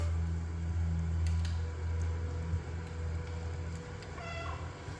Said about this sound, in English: So if you push the B button, it meows.